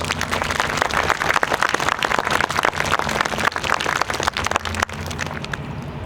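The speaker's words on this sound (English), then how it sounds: "if we could give them a round of applause" A crowd applauds at the outdoor groundbreaking ceremony for the Hibbing Early Learning Center, a dense, even patter of many hands that goes on for about five seconds before thinning out.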